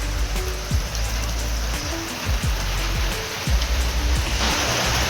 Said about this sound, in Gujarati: વરસાદ બરાબર પડે છે